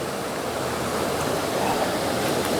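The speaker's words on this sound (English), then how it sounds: "So a nice little waterfall." A small waterfall on a park trail spills beneath a trail bridge, giving a steady, close rush of running water that holds at an even level throughout with no voices.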